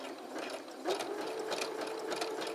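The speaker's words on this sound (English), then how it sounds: "The overlock machine." An overlock serger stitches along a fabric edge, its motor whirring in a fast, steady mechanical chatter that swells in a few bursts, close and fairly quiet, with no talking.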